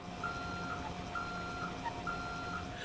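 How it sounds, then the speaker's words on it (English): Repeating electronic reverse-alarm beeps from an AirTug airport tug in GTA 5, sounded with its flashing lights on, a steady evenly spaced pulse of about six beeps over a low engine hum, moderately faint. "When you turn on its flashing lights, it'll actually play a reverse beeping noise, normally seen on big trucks"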